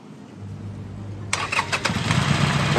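A heavy, wide Harley-Davidson motorcycle at a riding school cranks and fires up, a brief starter whir giving way to a rough, building engine rumble close by.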